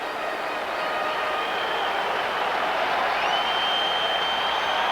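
A big crowd at a 1992 World Series baseball game in Toronto roars in a dense, sustained wash of cheering that swells slightly, loud and continuous with no clear voices.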